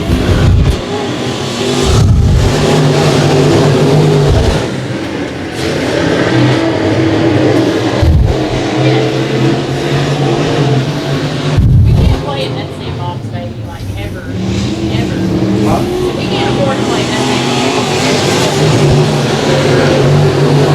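IMCA Southern Sport Mod race cars race at Boyd Raceway, a loud, continuous engine roar with surges and revving as cars pass, while announcer talk runs over it.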